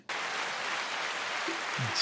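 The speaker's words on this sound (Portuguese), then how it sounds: "Uma salva de palmas para ela, por favor" A crowd clapping in a steady, dense wash for about two seconds, close and even, with no voices over it.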